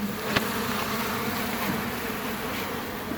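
Honeybees removed in a cutout buzz steadily inside a bee cage, a close, continuous drone with faint shifting tones and no talking.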